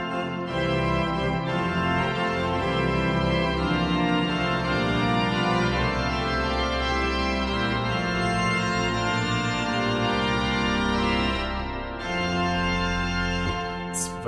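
The Bovenkerk pipe organ in Kampen played at full tutti with all stops drawn, a loud, dense, sustained chord texture with deep bass and bright upper ranks that holds for the whole stretch, briefly thinning twice before swelling again.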